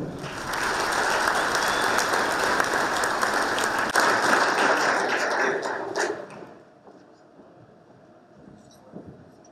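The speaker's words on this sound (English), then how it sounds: "Ladies and gentlemen, please help me give a warm round of applause to Mr. Stephen Dondolo." A crowd applauds loudly and steadily at a business talk event, a dense wash of clapping that holds for about six seconds before cutting off into quiet room tone.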